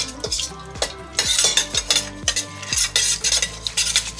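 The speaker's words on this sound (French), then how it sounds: "On mélange le tout." Lychees being mixed with lime juice and zest in a bowl, a rhythmic series of close utensil clinks and wet stirring scrapes in quick succession.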